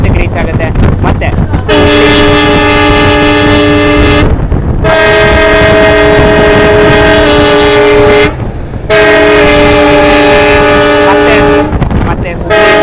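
A Kushtagi–Hubballi passenger train on the new Kushtagi–Talakal line blows its horn in several long, loud, close blasts over a continuous rolling rumble of wheels and carriages.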